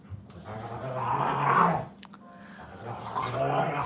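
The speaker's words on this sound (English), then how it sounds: "Sorry about my dogs in the background." Dogs growl low and steady in a home, a continuous rumbling snarl that swells around the middle and again near the end, fairly close and with no talk over it.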